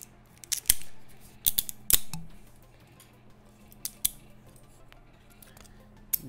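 Support material on a 3D-printed part being pulled off by hand, heard as sharp intermittent snaps and crackles scattered over quiet background hum.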